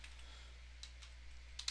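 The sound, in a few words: pressing keys on a computer keyboard in CAD software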